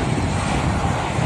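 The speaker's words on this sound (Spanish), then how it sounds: "Tanto ver a estos aviones caer constantemente. Están aquí llegando y llegando." Airplane coming in to land, a loud, steady engine roar close by, holding constant throughout the short moment.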